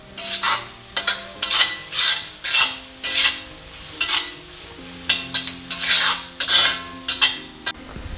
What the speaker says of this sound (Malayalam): വെളുത്തുള്ളി ഇഞ്ചിയൊക്കെ ഒരുവിധം പകുതിയൊന്ന് വാടി ഇതിലേക്ക് ഞാൻ ഉള്ളി ചേർത്ത് കൊടുക്കുകയാണ്